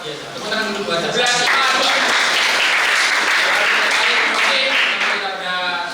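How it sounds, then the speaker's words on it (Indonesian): Classroom applause as students clap together, a dense, steady wash of hand claps that swells quickly and holds loud for several seconds before easing slightly, with some voices mixed in. "Tepuk tangan dulu buat 11."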